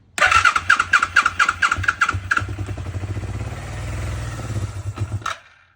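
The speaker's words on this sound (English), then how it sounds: "I'm going to go ahead and see if it'll fire." A Kawasaki KZ305 motorcycle, one cylinder disconnected and starting fluid sprayed on the other, cranks with rapid rhythmic starter chugging, then catches briefly into a rough, loud running burst before cutting out abruptly, close up and with no voices.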